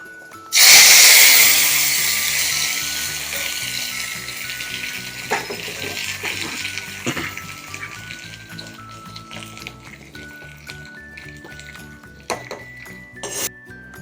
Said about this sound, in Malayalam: കുറച്ച് കരിവേപ്പില. ഇത് കറിയിലേക്ക് ഒഴിച്ചു കൊടുക്കാം.